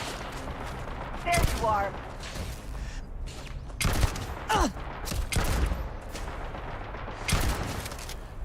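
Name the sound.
gunfire in the video game Starfield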